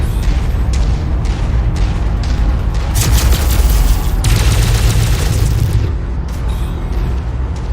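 Mech weapons fire in Mechwarrior 5 Mercenaries, heavy booming cannon blasts mixed with rapid gunfire bursts, loud and near, swelling to a dense barrage midway before easing off.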